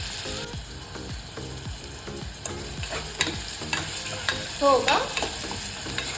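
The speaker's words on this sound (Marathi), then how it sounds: "चांगलं फ्राय करून घ्यायचं आपल्याला कांदा पण" Finely chopped onions fry in hot oil with garlic for dal khichdi while a spoon stirs them in rhythmic scraping strokes over a constant close sizzle, with a brief murmur of speech.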